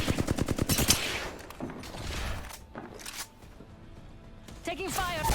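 Rapid gunfire in Apex Legends bursts in a quick rattling volley at the start, then scattered shots and game effects follow amid noisy in-game action, with people talking over it.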